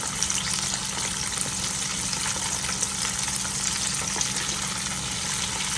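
Steady, loud crackling sizzle of chicken frying in hot grease, continuous throughout with no voices.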